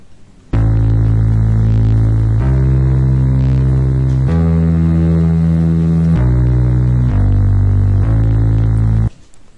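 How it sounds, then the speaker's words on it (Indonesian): Loud distorted bass notes from music production, a heavy buzzing tone that steps through several pitches in sustained blocks of about two seconds each, starting and stopping abruptly, with no voices. "Suara bassnya semua sudah terdengar berdistorsi"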